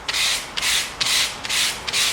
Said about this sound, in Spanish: Un poco de lija suave y si os dais cuenta